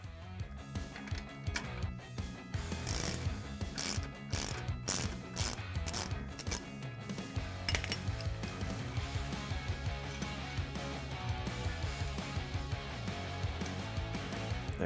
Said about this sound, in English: we're just gonna loosen up this nut and bolt so we can pull that bolt through